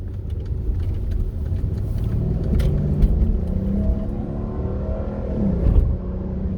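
A 2013 Mercedes SL550 with a twin-turbo V8 accelerates, heard from inside the car as a loud, steady engine roar. The pitch climbs and then drops as it shifts through the gears.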